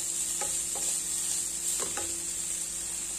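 Vegetables sauté in a hot pan with a constant bright sizzle, broken by a few soft clinks and scrapes of a spatula stirring them, no talking.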